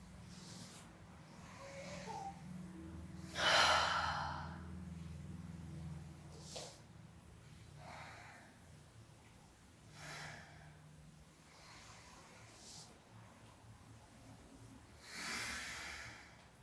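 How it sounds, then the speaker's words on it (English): Slow breathing during a yoga exercise: soft, faint breaths drawn in and let out at an unhurried pace, several audible exhalations spaced seconds apart over a low background. "Breathing."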